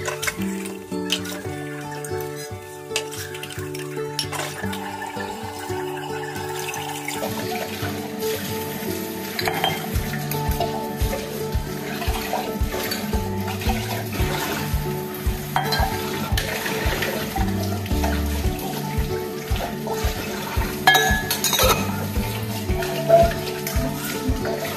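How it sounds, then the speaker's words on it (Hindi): Dishes are washed at a kitchen sink under running water, with pots and utensils clattering and scraping against a steady flow of water, a low rhythmic thumping beneath it, and no talk. "मैं जा रही हूँ बर्तन धोने, बड़ा काम पड़ा है मेरे पास।"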